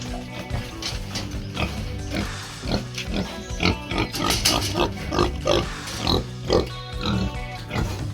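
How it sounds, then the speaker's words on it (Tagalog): Pigs eat their noon feed ration in a pen, giving a busy run of chomping, snuffling and clattering at a feeder, with occasional grunts, close by and steady throughout. "Habang kumakain sila sa rasyon sa tanghali"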